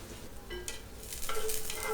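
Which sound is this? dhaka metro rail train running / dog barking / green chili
green chili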